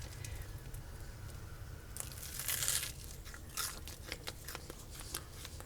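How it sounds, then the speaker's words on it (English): A bite is taken into a hot patty melt on toasted marble rye, giving a few crisp, close crunches in the middle, followed by quieter chewing against a low background hum. "Do you hear that crunch?"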